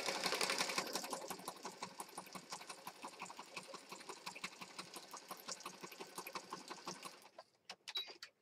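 Sewing machine stitching pages of a junk journal, a faint, rapid, steady mechanical whirring and clicking that runs for about seven seconds, then stops, leaving a few scattered clicks.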